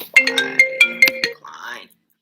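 A phone ringtone for an incoming call plays as a repeating electronic melody of bright tonal notes, loud and close, with a voice talking briefly at the end as it fades out.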